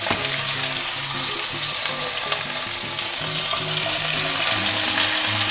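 Halibut fillet frying in a hot non-stick pan with a little oil, a steady close sizzle and crackle running throughout without any talk.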